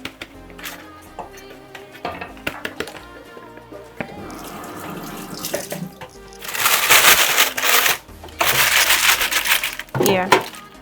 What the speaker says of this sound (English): Let me just wash my hand.